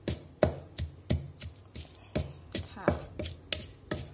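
Chilies for som tum pla raa pounded in a mortar, about a dozen sharp knocks at an uneven steady rhythm, close and fairly loud, with a brief spoken word in the middle.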